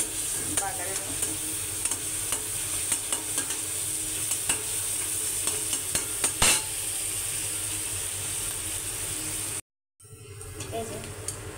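Onion and dried chilli fry in a pan for a tempering for country chicken curry, giving a steady, close sizzle with light stirring scrapes throughout, then a brief silence before the sizzling resumes.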